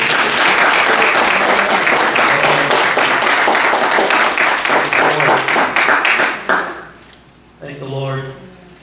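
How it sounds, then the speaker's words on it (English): A church congregation claps loudly and steadily in a sustained round of applause that fades out, followed by a voice speaking. "Why don't we just give the Lord a hand clap."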